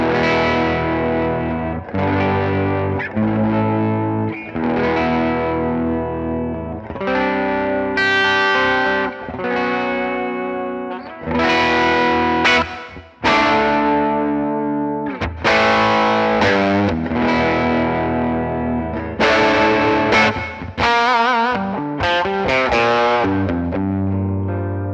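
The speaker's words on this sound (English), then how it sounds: "Let me play just a few chords for you, so you can hear the string definition." Electric guitar strummed in a series of ringing chords through distortion and effects, before cryogenic string treatment; loud, steady bursts with brief gaps between chord changes and no talking.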